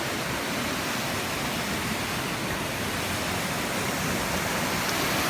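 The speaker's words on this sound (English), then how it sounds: "The cascade goes into there, and then the overflow comes down that creek." Wellington Falls in Tasmania cascading into a creek, a dense, steady roar of rushing water filling the scene without pause, close and loud.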